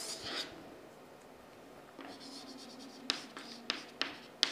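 A marker or chalk writing on a board, a soft scratch early on, then a run of short sharp strokes and taps, fairly close with a low hum behind.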